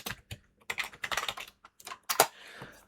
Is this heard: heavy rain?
no